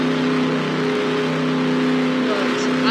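An ARCA Chevy race car engine in the Just Daytona racing game drones at a steady high pitch, with a sustained tonal hum and only slight variation, running continuously over the whole stretch.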